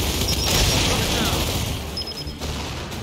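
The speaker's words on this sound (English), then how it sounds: "Incoming flash grenade!" Gunfire and a flash grenade going off in the Gears of War video game: a loud, dense barrage of shots and booms that carries on throughout, with voices mixed in.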